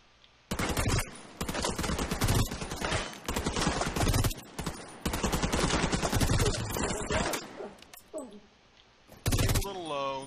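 Rapid bursts of assault rifle fire in The Division 2, dense and loud, running in long strings with brief gaps between volleys.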